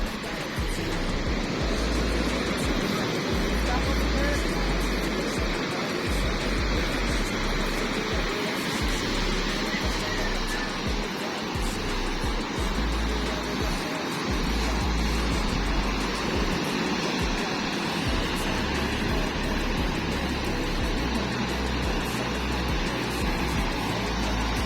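Large ocean waves roll in a continuous loud, deep roar of surf with heavy low rumble, steady for the whole stretch with no voices.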